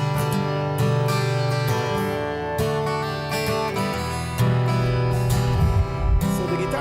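Guitar strumming a happy campfire song, a steady, bright chordal rhythm with full low bass and continuous sound, loud and close with no talking.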